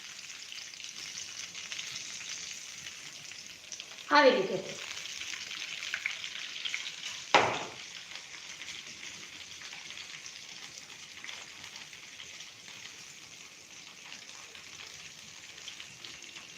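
Colocasia leaf rolls fry in a pan with a steady sizzle throughout as the food is turned, with two sharper clattering bursts of louder sizzling from the flips; a short spoken phrase occurs.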